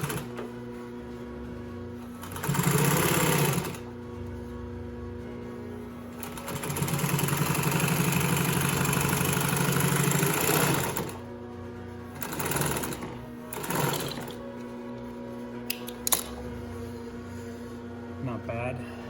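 A Fusion 757 five-thread overlock sewing machine stitches fabric in several whirring bursts of varying length over a steady electrical hum, with pauses and faint handling noises between runs.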